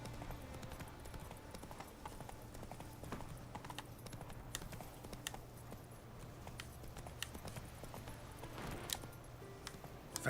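In The Witcher 3, a horse gallops with a quiet, steady clip-clop of hooves that carries on evenly throughout.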